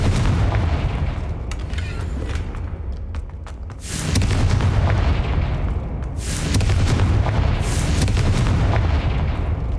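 Confringo fire spell blasting in the Hogwarts Legacy video game on PS5, with two loud booming bursts, one at about four seconds and another near six, over a constant low rumble of game ambience.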